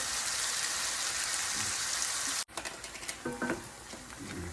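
Ground meat for Lebanese kibbi sizzles steadily in a pan, then after a sharp cut it continues frying more quietly while being stirred, with scraping and clinking bursts. No one speaks.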